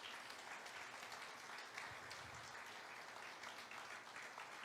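A church congregation claps together at a sermon's request, a steady, dense wash of many hands that holds fairly even throughout, with no voices over it.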